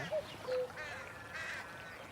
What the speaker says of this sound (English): Cuckoo. I can hear the cuckoo.